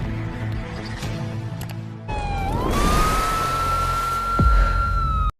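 A loud siren illegally fitted to a Royal Enfield Bullet motorcycle on a road in Jalgaon rises into a sustained piercing wail over engine rumble, starting abruptly after a couple of seconds of quieter street noise.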